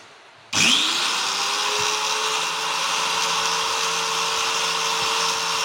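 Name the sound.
Modern SIM-2300 angle grinder switched on and running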